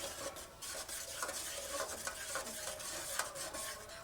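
Eggs are stirred quickly in a frying pan for a spicy egg dish, a steady close scraping and stirring rhythm over a continuous soft sizzle, with no voices.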